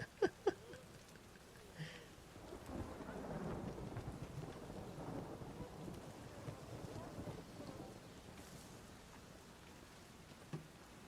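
Steady rain in the video game The Witcher 3 patters under low rumbles of thunder, with a few sharp clicks at the start; soft and continuous, no voices.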